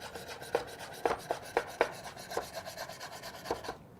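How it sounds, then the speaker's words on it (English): A knife slices andouille sausage on an angle on a cutting board, giving soft, quiet strokes in an uneven rhythm, about ten cuts over a few seconds, with no talking. "I'm going to cut this on a bias, kind of like on an angle"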